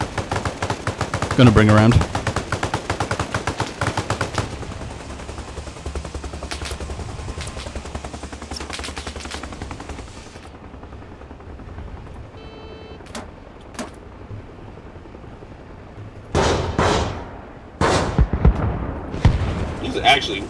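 Arma Reforger combat with mortar and small-arms fire while twin attack helicopters strike: loud, rapid bursts of gunfire and heavy booms at first, a quieter stretch with scattered shots, then fresh close bursts. Someone talks briefly over it.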